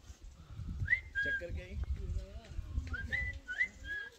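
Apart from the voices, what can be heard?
people whistling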